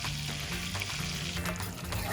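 Bacon fries in an iron skillet set on an outdoor grill, giving a steady, dense crackling sizzle that holds at an even level throughout, with no voices over it.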